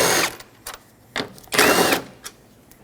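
Power tool backing out 10mm headlight bolts on a 2006-2010 Hyundai Sonata, a handful of short whirring bursts, the longest near the end, close and fairly loud.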